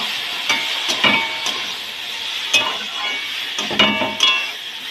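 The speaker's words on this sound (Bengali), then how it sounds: "ডালিয়াটা দিয়ে দিলাম, একটু নেড়ে নিই" Broken wheat (dalia) stirred in a frying pan: a soft sizzle underneath with a handful of distinct scraping and clacking strokes of the spoon against the pan, close and fairly loud, with no speech.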